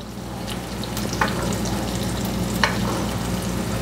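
Salmon sizzles in butter in a pan, a steady broadband fry with a soft low hum beneath and two brief sharp clicks or utensil taps along the way.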